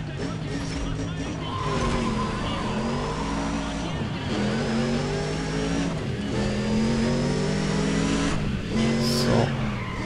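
A Ford Mustang accelerates hard in the racing game Need for Speed ProStreet, its engine note climbing again and again through gear changes, with tyre squeal and a steady roar throughout.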